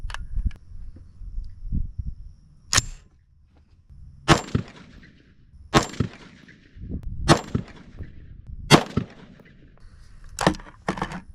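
Rifle shots fired downrange on a shooting range ring out as about eight sharp, loud cracks at irregular intervals, with quieter handling clatter and faint background noise between them.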